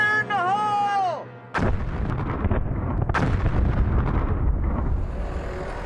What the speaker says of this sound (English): begin with a set of relatively small charges. Fire in the hole!